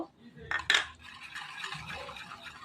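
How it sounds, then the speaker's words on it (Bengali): Bread crumbs being stirred into a milky pudding mixture with a spoon, giving a few quick clinks and scrapes against the bowl early on, then a soft steady stirring rustle at low volume. "আর মিশিয়ে নিব দুধের সাথে ভালো করে"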